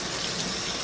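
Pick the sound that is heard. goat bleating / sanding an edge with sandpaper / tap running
tap running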